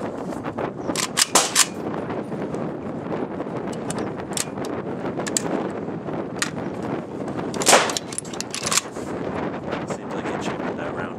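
A newly built AK-74 rifle is test-fired outdoors, giving several sharp, loud gunshot cracks spread irregularly over the span, with steady wind rumbling on the microphone between shots.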